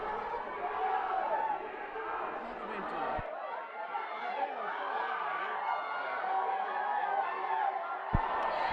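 Crowd at a St Albert's pre-season sports game cheering and chattering throughout, a dense, steady wall of voices with whoops rising over the din.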